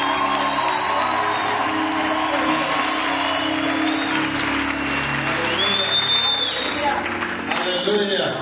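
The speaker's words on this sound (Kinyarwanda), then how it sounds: "twikwiriye kuzo bayikomera amashyi" A church congregation claps and cheers together for several seconds in a steady, loud wash of applause with scattered whoops, and voices carry over the crowd throughout.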